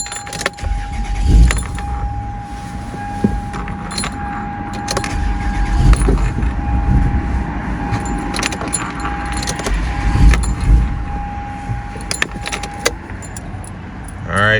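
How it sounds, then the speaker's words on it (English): A Toyota engine cranks and tries to start with its mass airflow sensor unplugged, a steady car rumble with a faint clinking of keys, close and fairly loud, with no one talking. "we've just unplugged our mass airflow sensor and we're gonna see if this vehicle will start and stay running"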